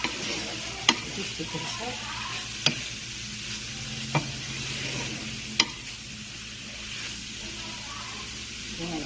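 Onions frying in a small amount of oil, a steady close sizzle broken by several sharp spoon clicks against the pan as they are stirred, with a brief spoken phrase over it.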